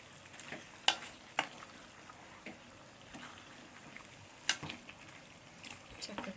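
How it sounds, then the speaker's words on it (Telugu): Gongura chicken curry frying in a pan over high flame, stirred throughout: a faint, steady sizzle with occasional sharp clicks and scrapes of the spoon against the pan, heard close with no talking. "మధ్యలో ఈ చికెన్ అంతా కూడా ఇలా కలుపుకుంటూ ఉండాలి"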